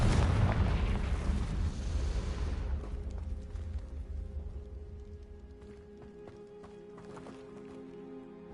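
A loud booming burst from a Confringo fire spell in Hogwarts Legacy opens with a heavy blast, then fades into a rumbling decay and quieter game ambience with faint clicks.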